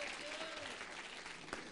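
Audience applause at a Holi comic poetry gathering: a steady wash of clapping from a crowd, sustained and fairly even for under two seconds, with a faint voice underneath.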